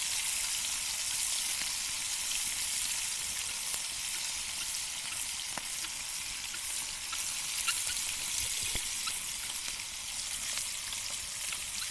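Jalapeño and pepperjack bacon burgers fry in bacon grease, giving a steady, close hiss and crackle with scattered sharp pops, unbroken and with no voices over it.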